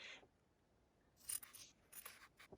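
Scissors snip through excess quilting fabric from a half square triangle, a soft scrape followed by several crisp, close cuts in an uneven rhythm, with no voices.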